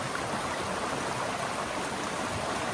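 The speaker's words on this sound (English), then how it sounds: "Coming up on the Homer Stone Creek, Homer Stone Brook." Homer Stone Brook runs through marshy ground near Clarendon Gorge, a steady, even rush of flowing creek water, soft and continuous with no talking.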